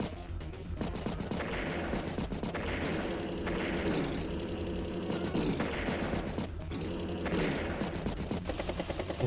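Continuous battle attack effects from the Advance Wars by Web video game as a battlecopter strikes another battlecopter, a dense, loud stream of rapid gunfire-like bursts and crashes with no pauses.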